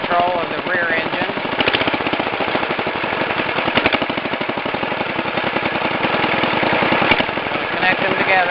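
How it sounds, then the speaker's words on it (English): The rear engine of a two-engine Wheel Horse garden tractor runs with a rapid, loud mechanical chugging, a steady pulsing rhythm holding throughout, with someone speaking over it. "There we have control of the rear engine."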